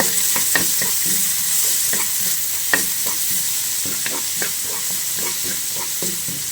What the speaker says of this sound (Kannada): ನೀರಲ್ಲಿ ಸ್ವಲ್ಪ ಫ್ರೈ ಮಾಡಬೇಕು.